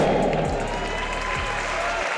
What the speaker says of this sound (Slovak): Takže dámy a páni, jeden obrovský potlesk, toto byl Momo!